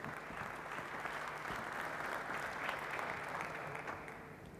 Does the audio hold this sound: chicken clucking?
no